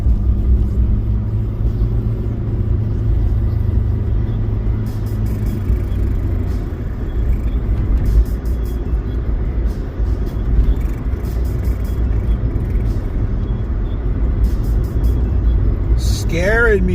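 A white car flips a U-turn very close by, its engine rumbling loud and steady under road noise, with a swelling whoosh at the end as it swings past; someone talks over it.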